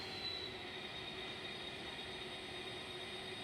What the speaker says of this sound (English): it'll pull up with the brake squeal as normal